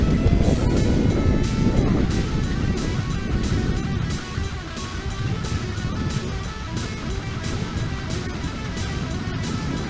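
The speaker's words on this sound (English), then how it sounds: "I can feel the wind trying to like push me off or something" Heavy wind buffets the microphone on a moving motorcycle, a 2016 Honda CB150 Streetfire or 2015 Yamaha R15 V2, making a steady loud rushing roar throughout, with no clear voices.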